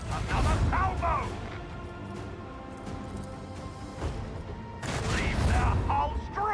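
A salvo of macro cannons in a space battle video game lands as a dense burst of booming, crashing shots, loud at first, then easing into a rumble before swelling again, while a voice shouts orders over the barrage.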